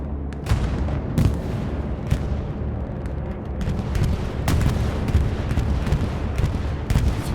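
Bombing run explosions rolling across a battlefield in the WWII video game Hell Let Loose, a dense barrage of loud booms and sharp blasts over a constant rumbling roar, with no voice over it.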